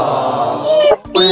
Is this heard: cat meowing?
yes